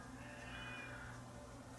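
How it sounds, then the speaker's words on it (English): A cat meows steadily and fairly loudly close by, over a constant low hum in a room where a calculator kit is being assembled, with no talking. "The cat can hear me talking again, and the cat's making a noise."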